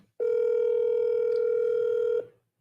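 A telephone handset plays a dial tone while a call is placed, a single steady electronic hum of about two seconds that starts and stops abruptly, close and clear with faint background noise.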